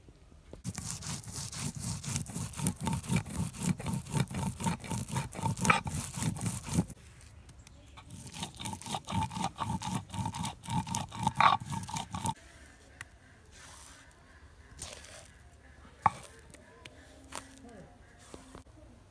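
Lentils ground into paste on a village grinding stone give a close, steady rhythmic rolling scrape, loud at first, then quieter and intermittent with clicks near the end.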